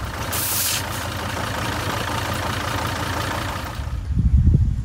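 An idling engine with its oil filler cap jumping around, a steady running drone with a rhythmic low pulsing, and a louder low-pitched rumble toward the end.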